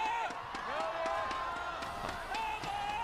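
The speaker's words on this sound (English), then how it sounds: "Good to have the crowd back as well." A live esports arena crowd at the 2020 Demacia Cup finals, WE versus TES in League of Legends, keeps up a steady broadband roar with scattered claps and shouts while voices talk over it.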